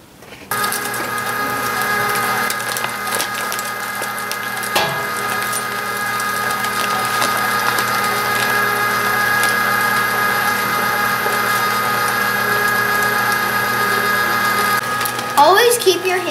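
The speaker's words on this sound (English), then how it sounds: "Okay, we're done grinding." A meat grinder churns venison for bacon burgers with a steady, loud mechanical hum and whine that runs almost the whole time and stops near the end.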